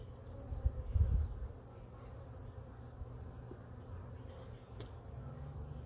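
Honey bees hum low and steady around an opened hive during a split, a soft continuous drone with a brief louder swell near the start and no talking.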